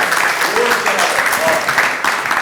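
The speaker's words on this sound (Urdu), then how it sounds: "جنرل سیکرٹری عروج آصف آپ کی بھرپور تالیوں میں اپنی نظم پیش کریں گے" An audience claps at an Urdu poetry recital (mushaira) in London, moderately loud scattered applause with a voice speaking over it.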